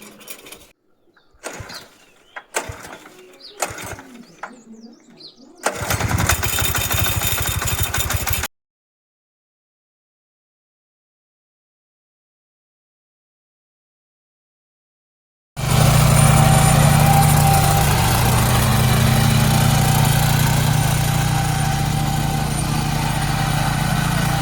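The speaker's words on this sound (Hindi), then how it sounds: "तो यहाँ भी से ना ट्रैक्टर क्या है वो चलाया जा रहा है।" A tractor engine drones steadily nearby as it is driven through a field in Bharmour, Himachal Pradesh, loud continuous mechanical running heard in two stretches separated by silence, after some clicks and knocks.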